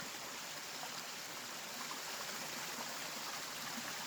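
Steady broadband rush of a stream running out below an old camp dam at Tom's Run, Camp Michaux, heard continuously and fairly close with no talking.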